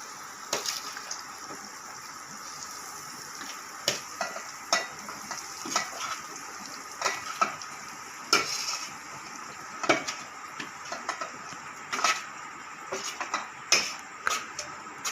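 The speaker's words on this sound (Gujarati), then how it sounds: "ચાલો હવે ગુંદા ઉમેરી દો આપણે તેલમાં." Gunda (glueberry) fruit frying in hot oil, a soft steady sizzle broken by a scattering of light crackles and pops, moderately faint with no voices.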